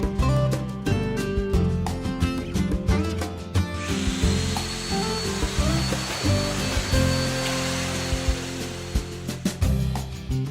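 A Woodpeckers MortiseMatch cuts a mortise in a wooden workpiece, giving a loud, continuous motor whine with shifting pitch and a rougher cutting roar in the middle, close and without talk.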